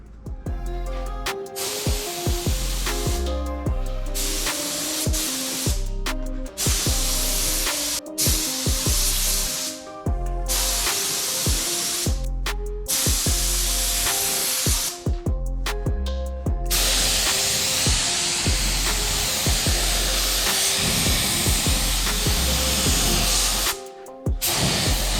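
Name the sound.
spray gun applying 2K eggshell black paint to car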